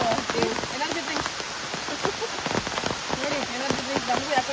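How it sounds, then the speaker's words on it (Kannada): Heavy monsoon downpour on the Dudhsagar waterfalls trek makes a close, steady hiss of drops striking surfaces, while people talk over the rain. "ಮಳೆ ಮತ್ತೆ ಜೋರಾಗಿದೆ"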